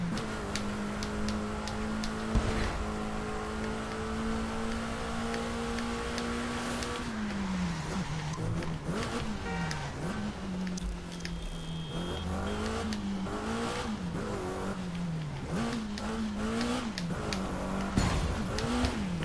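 A KTM X-Bow R race car driving in the video game The Crew 2, its engine droning steadily at high speed, pitch rising and dipping as it shifts and corners, with occasional clicks and ticks throughout.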